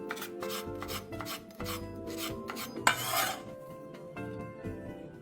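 A knife slices a fresh red chili, halved with seeds removed, into thin strips on a board, giving a steady run of close, crisp cuts with a brief louder scrape midway.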